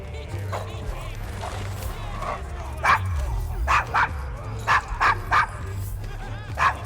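A dog named Desmond in the rough Devil's Acre district of Victorian London in Assassin's Creed Syndicate gives a series of sharp, close barks and yips with a whimper, interrupting a steady low ambient rumble.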